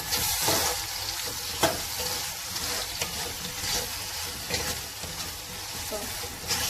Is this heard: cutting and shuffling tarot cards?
no